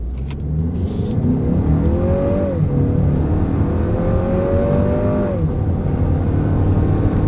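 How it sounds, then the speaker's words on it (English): A 2026 Lexus RX 350's turbocharged four-cylinder engine revs up hard from inside the cabin, pitch climbing through two gear pulls with a brief dip between, loud and droning. "let's see how quickly now we can get our new RX 350 here up to speed"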